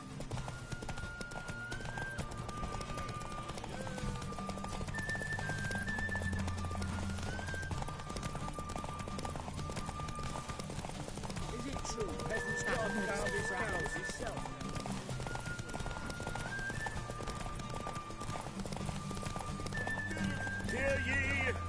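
Roach, Geralt's horse in The Witcher 3, gallops in a derby race with rhythmic hoofbeats and occasional whinnies, layered under race music and talk from spectators.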